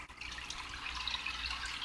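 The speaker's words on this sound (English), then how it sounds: "Just pour that shit in there," Saltwater pours steadily into a reef aquarium, a close, soft continuous splashing and trickling with faint bubbly detail and no talk.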